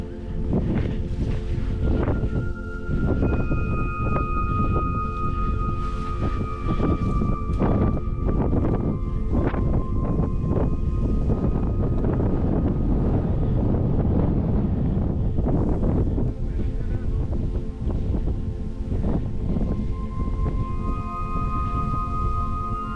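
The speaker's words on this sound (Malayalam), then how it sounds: "കണ്ടിന്യൂസ് ആയിട്ട് ശക്തിയായിട്ട് കാറ്റും അടിക്കുന്നുണ്ട്." Strong wind on a hilltop roars continuously across the microphone, loud and buffeting with gusty surges, with faint tonal whistling at times.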